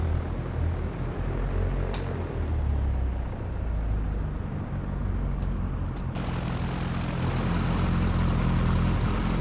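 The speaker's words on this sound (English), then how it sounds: "I hate how I have to, like, rev the engine every time I want to freaking just move the freaking plane" In the X-Plane 11 flight simulator, a light aircraft's propeller engine drones steadily as it revs to taxi, a continuous loud hum with no speech over it.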